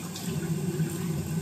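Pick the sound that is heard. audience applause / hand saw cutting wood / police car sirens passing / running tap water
running tap water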